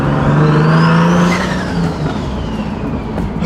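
A car that has sat unused for two months runs with its engine revving loudly up and then easing down, a close, steady roar with a rising whine that falls away into a lower idle.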